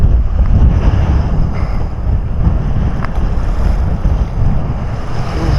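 Stormy Black Sea surf in December churns loudly near the shore while strong wind buffets the microphone, a continuous roaring rumble of waves and gusts with no voices.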